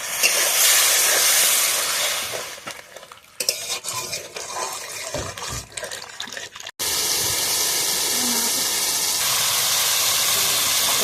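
Water poured into a sizzling pot of snail and potato curry gives a loud hiss and steam burst, then softer bubbling and stirring before a sustained, steady hiss resumes.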